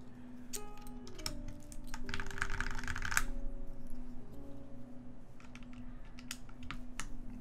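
Typing on a mechanical keyboard fitted with GMK Modern Dolch keycaps, a steady run of close, crisp clacks with a denser burst in the middle, heard alone.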